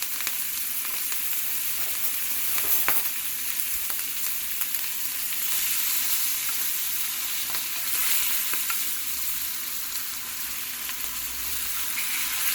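NY strip steak sizzles steadily in a pan with crushed garlic cloves and fresh thyme sprigs, a dense continuous frying hiss with occasional louder pops and spatters, close and alone without talk.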